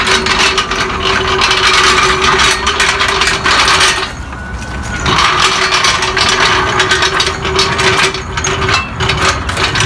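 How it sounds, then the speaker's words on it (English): A Husky 3-ton low-profile hydraulic floor jack rolls across the floor, its casters giving a steady, loud grinding rattle with a brief quieter dip midway. "Check the mobility here of the jack."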